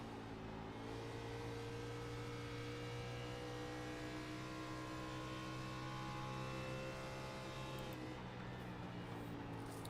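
A race car engine holds a steady, loud high-speed drone at about 140 mph in an Xfinity Series stock car racing video game. The sustained tone runs alone for the whole stretch, with a slight shift near the end.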